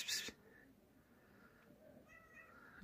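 A cat in a Turkish village lets out one short, loud meow at the start, then near-silence follows with a faint low sound at the very end.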